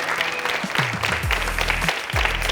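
A studio audience at the Derana Little Star children's talent show claps steadily for a young performer who danced with a drum tied on, a dense, even patter with low voiced sounds mixed in.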